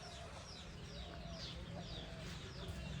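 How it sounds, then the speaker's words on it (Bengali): Chickens on a village farm cluck and call softly over a steady hum of background noise, with brief repeated bird calls scattered throughout and no clear voices. "আর এখানে মুরগি ডিম পারে, উপরেও মুরগি আছে ডিম পারে।"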